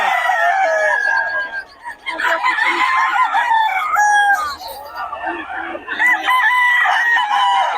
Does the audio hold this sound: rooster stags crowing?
yes